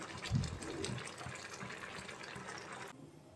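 Cooking oil is poured into a pan to make a tempering for papaya and lentil dal, a soft trickling gush lasting a few seconds, quiet and close, ending abruptly.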